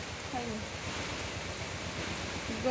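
Rain falls in a steady, soft hiss of patter with scattered drop sounds, faint and continuous, and a voice is faintly present underneath.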